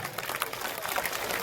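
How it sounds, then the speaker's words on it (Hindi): Applause from an audience at a political rally in Patna, Bihar, a broad, steady patter of clapping from a crowd lasting the whole short stretch, with faint voices mixed in. "तालियों से स्वागत होना चाहिए"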